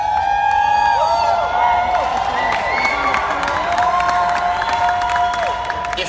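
An audience at a training event whoops and cheers loudly, many overlapping rising and falling shouts with a bed of clapping, a dense crowd roar close at hand that lasts the whole stretch.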